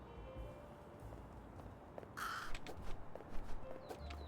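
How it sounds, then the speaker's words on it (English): A crow caws in the Little Kitty, Big City video game, a few harsh calls standing out midway over quiet ambience with light clattering steps beneath; no one speaks. "Oh, the crow's back."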